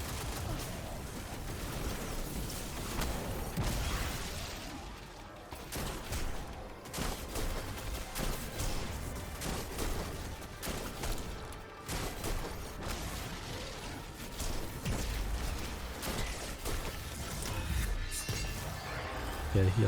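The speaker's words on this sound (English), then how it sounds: "What I'm going to do is I'm going to shoot this turret here." Repeated gunfire and crashing impacts from shooting a turret in the video game Destiny 2, a dense, continuous stretch of shots and mechanical clatter against a busy game-music backdrop, with a voice talking over it.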